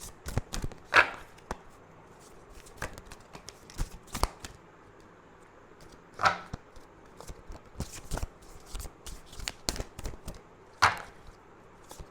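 Tarot cards are shuffled and drawn in a pick-a-card reading, with quick riffling bursts and sharp snaps spaced irregularly over quiet gaps, close and with no talk.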